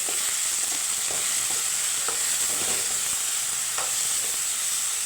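Tomato curry with carrot and egg simmers and sizzles in a pan, a constant loud frying hiss with faint soft pops and occasional stirring scrapes, no talk.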